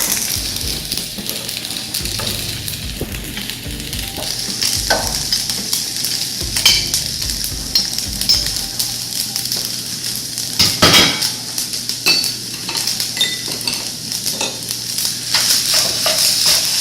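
Fried rice with mixed ingredients is stir-fried in a wok, a steady close sizzle under repeated scraping and clanking of the spatula against the pan, with a few sharper metallic knocks along the way.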